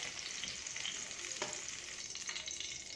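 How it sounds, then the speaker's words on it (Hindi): Pieces of drumstick (moringa) frying in hot oil give a steady, close sizzle with a faint clink of stirring partway through and no voices. "इसी तरह कलर चेंज होने तक फ्राई करेंगे। इस तरह फ्राई करेंगे।"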